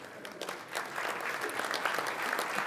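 A banquet audience applauds the sponsors, the clapping swelling from scattered hands into a full, sustained round that keeps going at moderate distance to the end.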